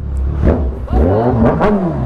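A Kawasaki leisure motorcycle with an aftermarket exhaust revs in city traffic after a fill-up of 97-octane fuel, a loud close engine rising and falling in pitch over two seconds with no talk.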